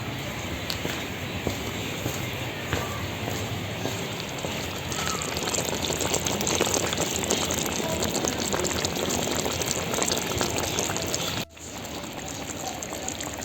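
A pot of zirvak, the meat broth for Tashkent plov, boiling steadily, a continuous close bubbling and hissing wash with a brief drop near the end.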